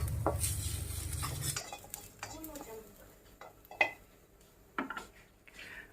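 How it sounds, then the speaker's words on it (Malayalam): Onions are sautéed in a rusty iron pan, with close, quiet scraping and clinking of a utensil against the metal and a faint sizzle, after a brief low hum at the start. "ഈ സവോളനൊന്നിങ്ങനെ വഴറ്റിയെടുക്കാം."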